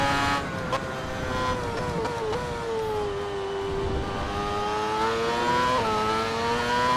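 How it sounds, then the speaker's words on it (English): A Ferrari Formula One car engine revs hard in fourth gear, a loud, sustained, harmonic-rich howl whose pitch rises and dips with throttle changes across several seconds, alone with no talking. "Look at this, I'm revving it out in fourth gear."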